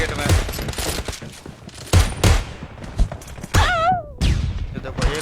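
Rapid R98 sniper rifle gunfire in PUBG Lite team deathmatch, several loud sharp shots a few seconds apart over game sounds and background music.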